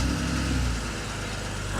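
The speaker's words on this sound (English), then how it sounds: "get the engine fired up" A BMW 130i engine runs steadily after starting during a service, a dense, even mechanical hum close by with no talking.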